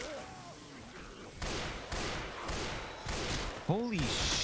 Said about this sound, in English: this sniper rifle's not hitting anything